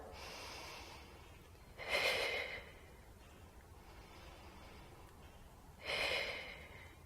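Two close, audible breaths taken about four seconds apart during a Pilates plank, each a short, airy rush against a quiet background.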